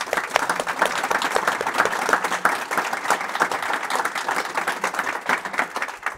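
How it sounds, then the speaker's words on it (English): Audience applause for the panelists at a university political science discussion on fake news, a dense, steady wash of many hands clapping from the room, sustained and fairly loud throughout without a break. "If you would all please give the panelists a round of applause."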